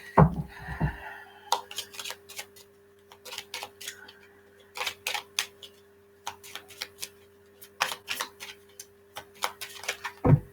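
A deck of cards being shuffled by hand, giving clusters of quick, crisp clicks and flutters that repeat in short bursts with brief pauses between, close and fairly quiet.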